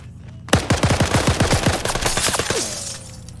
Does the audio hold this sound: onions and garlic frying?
no